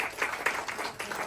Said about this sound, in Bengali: তার জন্য ছোট্ট করে বড় করে একটি করতালি হবে